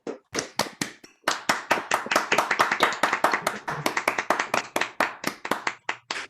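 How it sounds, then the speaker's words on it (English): Several participants on a Zoom call clap their hands loudly in a quick, uneven burst of sharp individual claps close to the microphone, slowing and thinning toward the end. "I think we should do a loud clap because I'm tired of silent claps on Zoom."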